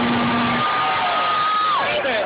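Crowd cheering and whooping at a Ron Paul campus event at UW Madison, a loud, dense roar of many voices with individual yells rising above it, sustained throughout.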